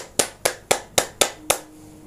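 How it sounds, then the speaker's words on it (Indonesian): Six sharp hand claps at an even, quick rhythm, close and distinct, with a faint background hum and no talking. "tepuk tangan"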